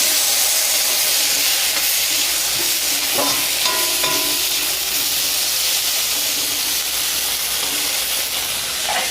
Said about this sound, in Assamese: এতিয়া মই কাটি থোৱা কঁঠালৰ গুটিখিনি ইয়াতে দি দিম। এইখিনি অকণমান সময় ফ্ৰাই কৰি ল'ম।